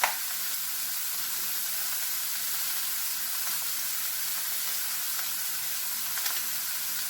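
Sausage seasoned with basil and black pepper sizzles and crackles steadily in a hot pan, an even frying hiss heard up close with no voices.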